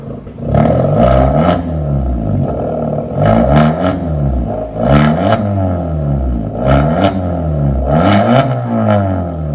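A 2013 Kia Forte with straight-pipe exhaust and a 5-inch tip revs up close, with five rising and falling throttle blips spaced about two seconds apart, each a loud, raspy roar.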